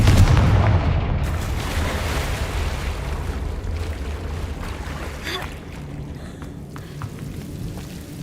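Spell blasts and explosions from the Hogwarts Legacy video game open with a deep booming impact, then settle into a rumbling, crackling wash of magical combat that slowly tapers off.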